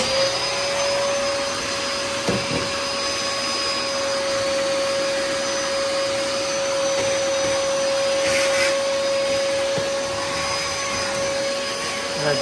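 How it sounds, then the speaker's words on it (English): A Dyson vacuum cleaner sucking debris out of a gas stove burner area runs loud and steady throughout, a constant whine with a few bumps and rattles as the nozzle moves. "I'm going to go ahead and suck all this junk out of here with the Dyson"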